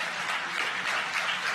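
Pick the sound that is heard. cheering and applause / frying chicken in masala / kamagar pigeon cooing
cheering and applause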